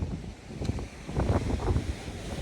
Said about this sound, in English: it is just so windy still